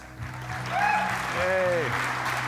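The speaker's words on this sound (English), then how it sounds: "Please give Ben Lesh a warm round of applause." A conference audience at React Rally claps in welcome for a speaker, a steady wash of applause with voices calling out briefly over it.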